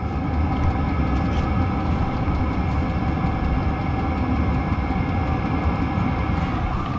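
A Chinese diesel heater runs with an Eberspacher exhaust silencer fitted, producing a constant, loud, low droning rumble with a faint higher whine above it and no breaks.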